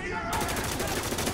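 Gunfire in the war shooter Spec Ops: The Line, a dense continuous rattle of automatic shots with no gaps, loud and close throughout the short burst.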